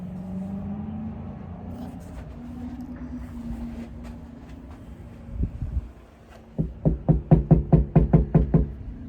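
A door at a Kingdom Hall is knocked on, first a couple of single thumps and then a quick, loud run of about a dozen raps near the end, with a low vehicle-like hum earlier on.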